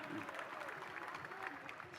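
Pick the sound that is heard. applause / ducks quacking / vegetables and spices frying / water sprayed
applause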